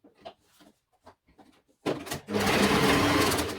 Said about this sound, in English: We are going to insert one side. Sew it.